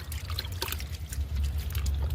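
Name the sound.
kitchen-waste soak water being poured and mixed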